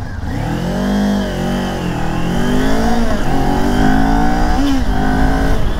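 A 2023 Kawasaki Ninja 400 sport motorcycle accelerates, its engine note rising and falling through revs with a pitch sweep near the end, loud and close with no talk.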